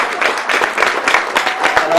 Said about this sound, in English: a round of applause to Alan